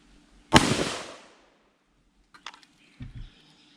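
A K&M Tactical 10.5-inch 450 Bushmaster rifle fires one Hornady subsonic round: a single sharp, close report that fades quickly, then a few metallic clicks and clatter.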